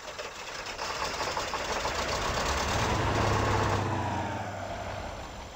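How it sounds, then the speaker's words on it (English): A rescue truck engine in the SpinTires off-road game fires up and settles into a steady, loud low rumble that runs continuously throughout, with no talking. "Let's start the engine, I suppose."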